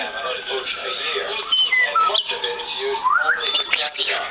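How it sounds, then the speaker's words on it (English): A pet bird gives sharp, high squawks and shrill whistling calls over several seconds, mixed with close talking from a person nearby. "Sweet bird!"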